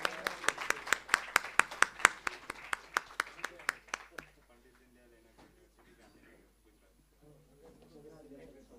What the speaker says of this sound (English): We can have a huge round of applause,